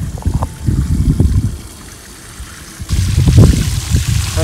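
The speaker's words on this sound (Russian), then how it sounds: "Заливаю 10 литров сюда." About ten litres of water are poured into a planting hole for a cherry tree, splashing and gurgling in two bursts with a quieter trickle between them.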